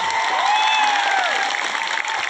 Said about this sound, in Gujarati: જોરદાર તાળીઓ પણ લઈએ